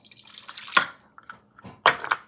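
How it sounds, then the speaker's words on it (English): Water from a cup pours into an Instant Pot that is switched off, making a couple of short, close splashing bursts with quiet gaps between them. "Now add just a cup of water,"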